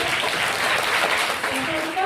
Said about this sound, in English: Give you a big clap, children.